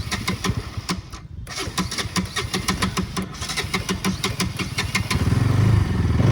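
A carbureted old-model Bajaj Pulsar NS 200 motorcycle engine runs close by with a rapid, uneven pulsing beat, loud throughout and swelling into a heavier rev near the end.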